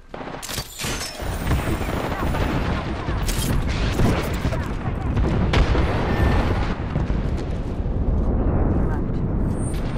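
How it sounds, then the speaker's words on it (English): Incoming airstrike explosions in the video game Apex Legends rumble loudly and continuously as heavy booms and blasts, with sharp cracks near the start and players talking over it. "Grenade. Airstrike en route."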